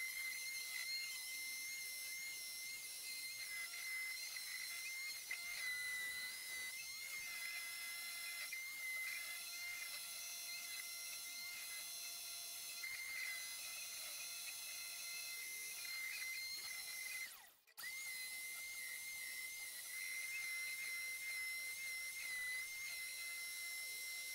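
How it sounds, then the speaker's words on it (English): A steady, high-pitched whirring drone of an orbital sander sanding wood runs almost continuously up close, with one brief cutout before it resumes. "finish the rest of the sanding with my orbital sander"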